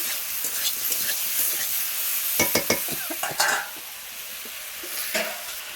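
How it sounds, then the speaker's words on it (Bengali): Pointed gourd, drumstick and potato stir-fried with spices in a pan, giving a continuous hissing sizzle broken by several sharp spoon scrapes and knocks. "দিয়ে ভালো করে মশলার সঙ্গে কষিয়ে নেব"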